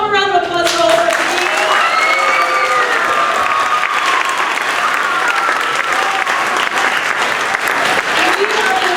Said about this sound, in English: Let's have one more round of applause for all of us.